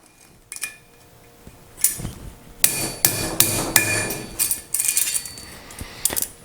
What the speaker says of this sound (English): Just smack that with the hammer and that'll come right out of there.